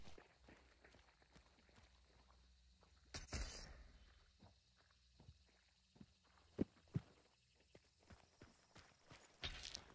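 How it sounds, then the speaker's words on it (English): Footsteps in the video game Hunt: Showdown, a string of faint irregular thuds and clops on a hard surface, with a couple of louder impacts, heard quietly against low background noise. "yep, I heard it. Footsteps."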